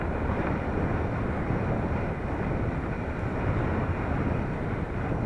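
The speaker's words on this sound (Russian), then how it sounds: "Ветрище." Strong wind roars steadily over the frozen Pechora River ice in late November, a loud, dense, unbroken rush with no gaps and no voices.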